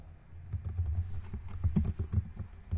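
Rapid keyboard typing while entering a start script in a Node.js project's package.json, with steady, close clicking keystrokes in an irregular rhythm.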